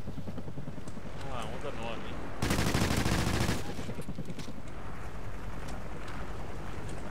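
A burst of rapid gunfire rattles for about a second amid busy sounds from the game Ghosts in Safeguard mode, with a helicopter in play, background chatter and voices talking throughout.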